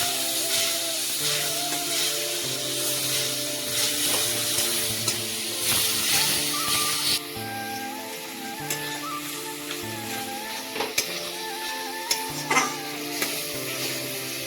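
Curry spices and oil in a pan bubble and sizzle softly after water goes in, a steady frying hiss with occasional stirring clinks over faint background music.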